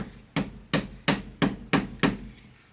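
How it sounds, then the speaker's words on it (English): Glued wooden plug tapped into a hole in a wooden shop stool, six sharp close taps in an even rhythm, each dying away quickly. "And just tap the plug in"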